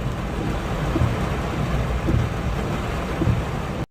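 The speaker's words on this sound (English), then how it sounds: "Dubai was also hit with very hard rains as well" Heavy rain pours steadily over the city of Dubai, a dense continuous hiss with low rumbles of thunder swelling a few times beneath it, close and loud throughout before cutting off at the end.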